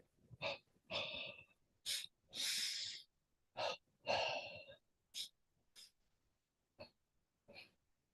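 Breathing exercise of doubled breaths: a series of short, sharp inhale and exhale bursts in quick pairs, close and fairly loud, with brief silences between groups and no talking.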